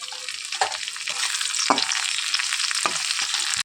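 Onion, garlic and small tomatoes fry in a pan with a dense, steady sizzle close by, broken by a few brief stirring scrapes, with no talk.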